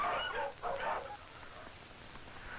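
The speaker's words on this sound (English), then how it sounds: "Our sled dogs are the only domestic animals we have." Sled dogs in an Arctic village give a few short yelping barks near the start, fairly faint and distant, then fade into quiet background.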